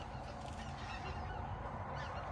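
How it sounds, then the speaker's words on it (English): Geese honk outdoors at a ranch, a dense overlapping chorus of calls carrying steadily at moderate distance with no voices over it. "And listen to the birds."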